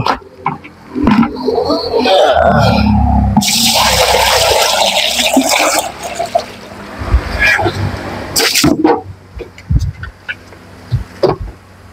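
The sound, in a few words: water being poured in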